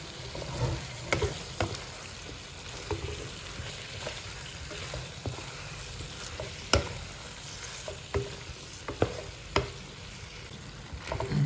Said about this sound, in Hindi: आलू को अच्छी तरह से भुनेंगे इसमें हम